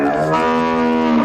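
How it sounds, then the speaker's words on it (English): A cow moos loudly and close, one sustained low, drawn-out call lasting the whole moment, with no talking over it. "Poor cows."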